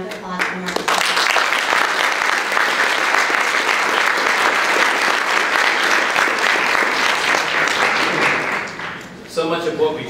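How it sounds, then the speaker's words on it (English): Sustained audience applause fills a room at a regional center's legislative breakfast in Aptos, steady and loud for about nine seconds before tapering off, with brief voices at the start and end. "Can we please have a round of applause for Mark Stone?"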